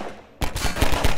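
Loud, rapid bursts of gunfire in the game Synergy crack out after a brief quiet moment, firing in quick repeated pops.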